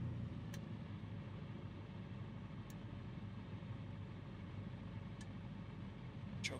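A small aircraft engine in Microsoft Flight Simulator 2020 turns over and settles into a steady, low idling rumble, with a few faint clicks, continuous and close throughout.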